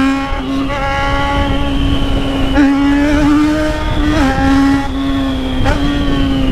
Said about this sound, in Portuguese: A motoca tá berrando muito